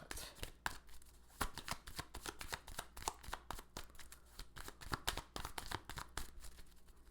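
A deck of tarot cards is shuffled in quick riffling bursts, a fast flutter of snapping card edges repeating over several seconds, close and crisp.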